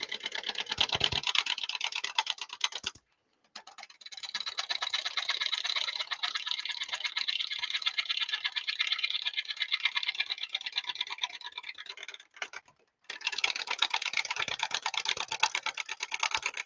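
A dense, steady buzzing rasp of a wood lathe at about 500 rpm as a 1/2-inch spindle gouge cuts wet callistemon wood, broken by two brief pauses, loud and close with no talking.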